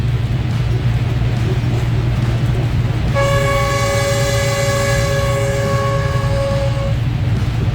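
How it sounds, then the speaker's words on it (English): A passenger train's horn sounds one long sustained blast at an unguarded road crossing in Cambodia, heard from the driver's cab over a steady low rumble of the moving train. "They have to blow the horn."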